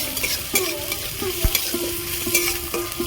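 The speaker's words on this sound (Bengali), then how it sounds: "আদা রসুন আমি ভালো করে ভেজে নিয়েছি" Chopped ginger and garlic frying in oil in a pan, a soft steady sizzle with light stirring scrapes and taps, close and fairly quiet, with no talking.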